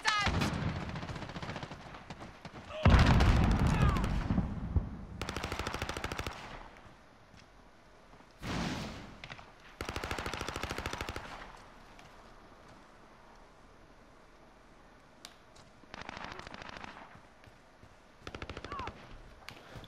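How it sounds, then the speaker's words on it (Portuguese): Gunfire in Call of Duty: Modern Warfare, bursts of rapid automatic fire several seconds long, some loud and close and others fainter, separated by quieter gaps. "Esse cara tá atirando."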